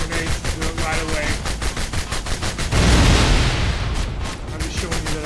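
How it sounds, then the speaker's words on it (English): Rapid gunfire rattles in the Bionic Commando Rearmed video game as vehicles are shot apart, with dense repeated bursts and a louder swelling blast midway before the shooting resumes. "You can destroy these vehicles with regular shots, or you can use grenades to do it right away."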